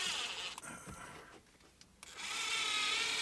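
A power screw gun drives screws while a Sony radio kit goes into a 1999-2006 BMW 3 Series dash, with two bursts of high motor whine either side of a quieter pause.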